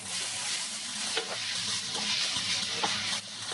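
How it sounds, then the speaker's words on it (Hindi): Garlic and green chilli mixture for chutney fries in oil over a low flame, a close, steady hiss of sizzling broken by a few soft stirring scrapes, with no talking. "अब बिल्कुल लो फ्लेम पर हमें इसे फ्राई करना है"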